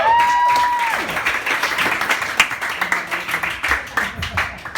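Audience applause and cheering at a comedy show as the comedian walks on stage, a dense continuous clapping with a brief whistle-like tone at the start, fairly loud and steady throughout.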